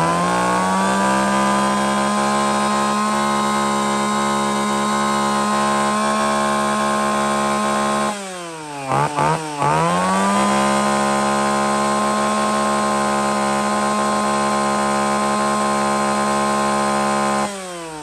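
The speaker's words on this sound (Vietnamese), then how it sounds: "Các bác nghe thử cái tiếng máy nhá" A small Echo 331 chainsaw engine runs steadily at close range, a buzzing two-stroke drone that dips briefly and revs back up before holding its high idle.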